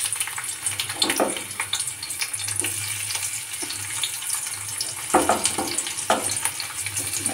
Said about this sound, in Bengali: এবার এখানে আমি পেঁয়াজগুলো দিয়ে দেবো।